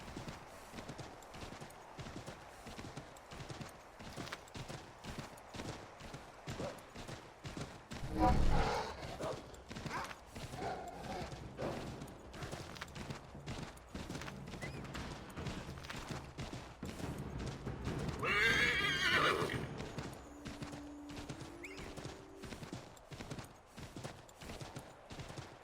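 Galloping horse in the Assassin's Creed III Remastered video game, a steady rapid clip-clop of hooves running throughout, with a couple of louder bursts of game effects or a whinny rising over the hoofbeats.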